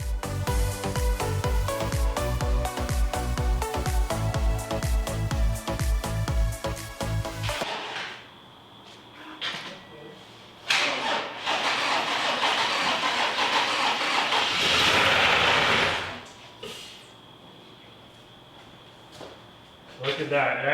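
A flood-damaged Toyota Sienna's swapped-in engine cranks and catches on a jump box, then settles into a rough idle with uneven bursts; a loud tonal passage comes before the engine noise.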